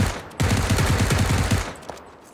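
Rapid automatic gunfire in PUBG, a sustained burst of close, loud shots in fast rhythm lasting over a second, then fading to quiet.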